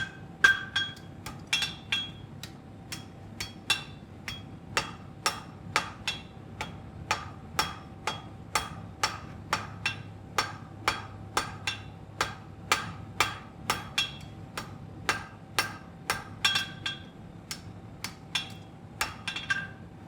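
Steady, evenly spaced hammer blows ring out on a welded steel bar as it is straightened into bar stock. Around forty sharp metallic strikes come at roughly two per second, close and clear, with no talking.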